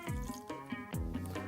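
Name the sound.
water being poured into a container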